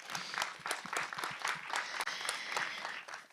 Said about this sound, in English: So a round of applause for our speakers